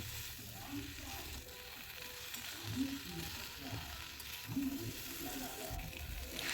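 Poppy seed paste spoonful dropped into a pan of fried vegetables for Bengali shukto, a steady sizzle with a few louder stirring bursts, close and continuous.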